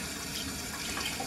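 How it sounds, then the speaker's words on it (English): A bathroom or kitchen tap runs warm water into a sink, giving a soft, steady gushing hiss for a brief moment at low volume. "I'm going to turn on the water"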